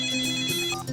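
A mobile phone ringtone sounds for an incoming call in a Robi TV commercial, a steady electronic melody of sustained tones playing loud and close without any talk over it.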